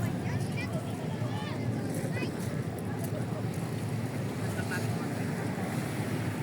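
Steady wind roars across the microphone at Dolomite Beach in Manila in a continuous, unbroken rush, with a low rumble underneath and faint higher crackles scattered throughout.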